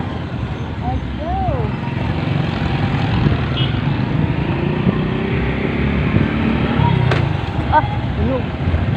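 A motorcycle ride on a cleared road after flooding, with a steady engine drone and broadband road and wind rumble throughout, and faint voices now and then.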